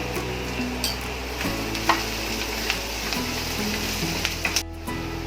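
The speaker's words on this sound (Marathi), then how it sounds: "कांदा जरा चांगला लाल होऊ द्यायचा आहे" Chopped onions fry in a pan for an Indian peas and paneer curry, a steady close sizzle and crackle with occasional sharp taps and stirring scrapes.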